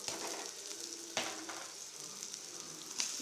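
Chili powder, curry powder and salt sizzle steadily in hot oil, a soft continuous crackle with occasional scrapes of stirring, no voices.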